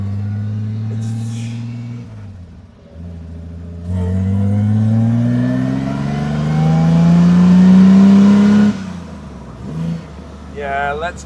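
A genuine works Austin Healey 3000 race car engine revving up through the gears, loud and close from inside the car, with rising pitch sweeps, brief drops at gear changes, and someone talking at moments.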